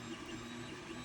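An Ender 3 Pro 3D printer at work printing a paper towel holder, a faint steady motor whine and hum with no voices.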